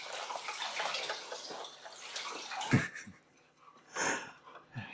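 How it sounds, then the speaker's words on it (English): Water is poured into a toy robot fish tank, quiet gurgling splashes coming in a few short bursts with soft breathing and gaps of near silence between them. "Add some more water."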